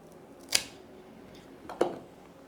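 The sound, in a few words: cutting a dahlia tuber clump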